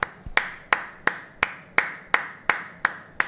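Sharp claps repeat at a steady, mechanical pace, about ten identical hits evenly spaced, like a looped applause sample rather than a live crowd: stadium crowd applause in FIFA 23 career mode.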